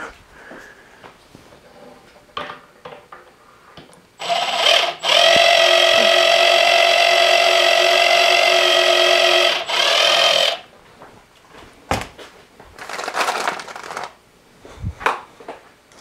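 A power drill whines loudly for about six seconds while drilling a pilot hole in wood, steady and high-pitched, bracketed by short clicks and handling knocks.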